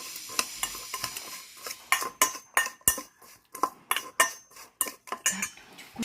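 A spoon stirs salt through freshly cut totapuri mango pickle in a bowl, producing a quick run of close, sharp clinks and scrapes in an uneven rhythm with brief pauses, no voices.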